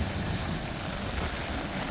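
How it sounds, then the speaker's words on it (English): Wind and heavy rain at Haruru Falls, a New Zealand waterfall, a dense continuous broadband roar of wind buffeting and rushing water, loud and unbroken throughout with no voices. "it's raining heavily, it's windy"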